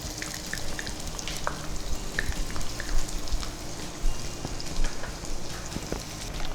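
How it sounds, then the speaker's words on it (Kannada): Onions frying in hot oil, a dense rain-like crackle with irregular louder spits and pops, close and continuous, with no speech. "ಎಣ್ಣೆ ಬಿಸಿ ಆಯ್ತು. ಓಕೆ, ನೀರುಳ್ಳಿ ಹಾಕಿ."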